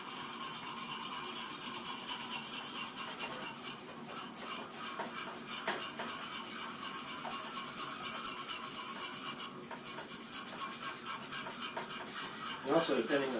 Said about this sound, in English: You're going to whisk all those out.